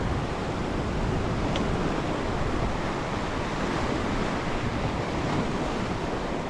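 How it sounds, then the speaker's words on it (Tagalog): Rough stormy sea with waves surging steadily against a fishing boat off Palawan during a giant trevally trip, a continuous loud broadband wash with wind buffeting the microphone and no speech. "Nagiging wild yung alon ah."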